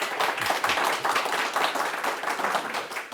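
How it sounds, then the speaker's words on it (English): Steady applause from an audience greeting an interview guest at an executive summit, a continuous wash of many hands clapping at moderate loudness throughout. "give him a round of applause"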